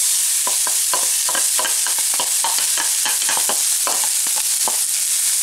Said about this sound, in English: And then we start caramelizing some onions.